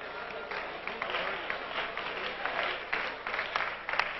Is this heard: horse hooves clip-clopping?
no